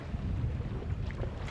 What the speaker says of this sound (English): now I'm under sail